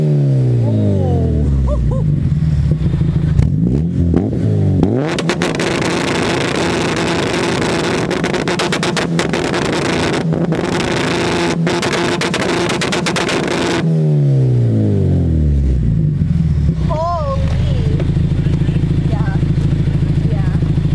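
A supercharged Acura RSX engine revs hard and rises in pitch, then holds a loud, crackling roar for several seconds as backfires pop and shoot flames, before settling back down to a steady idle.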